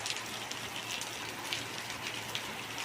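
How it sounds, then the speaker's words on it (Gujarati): Rain falls steadily with dense pattering on surfaces and a few louder drop hits, moderately quiet and continuous, with no one talking. "અત્યારે વરસાદ એ સારો પડી રહ્યો છે."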